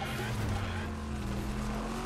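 A car engine in the video game Fortnite roars continuously with a steady droning hum and some tire noise, with faint talk underneath.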